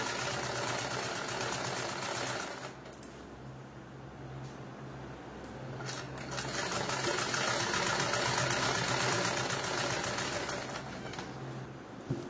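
Sewing machine stitching a pants piece, a steady mechanical whirring run with a low rhythmic hum, slowing briefly in the middle before speeding up again, close and continuous.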